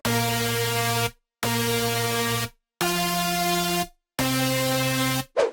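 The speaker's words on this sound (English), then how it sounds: "So leads without effects sounds like this." Dry synth lead for melodic drum and bass, four sustained buzzy notes separated by short silences, loud and alone with no effects applied.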